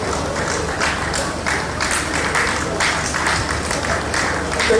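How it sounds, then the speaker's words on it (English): Steady applause from a forum audience at an apiculture and agricultural value chain dialogue in Nigeria, welcoming a keynote speaker. It is dense and continuous for nearly five seconds, with a low murmur beneath the clapping. "Can you give him a round of applause"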